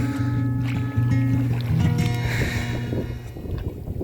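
An aluminium tinny boat with a 9.8 hp outboard putting along slowly, a steady low droning motor hum with faint water wash that continues throughout, close and fairly loud.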